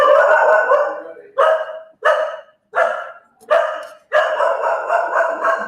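Lola the dog barks at someone arriving at a workshop unit, a loud close run of sharp barks, several spaced single barks and then a rapid burst, with no talking over them.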